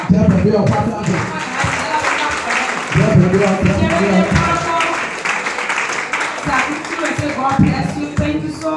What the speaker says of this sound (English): let us give a hand clap for the security department